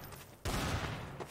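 In the shooter game Trouble in Terrorist Town, a sudden loud burst of gunfire breaks in after a short quiet moment and rattles on to the end.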